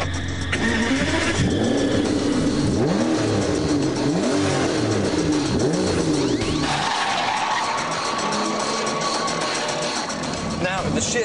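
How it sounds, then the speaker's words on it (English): An Aston Martin DBS V12 engine warms up with a loud, deep throbbing rumble and swelling revs, then settles into a steadier drone, with someone talking over it throughout. "the sheer sound of that V12 warming up"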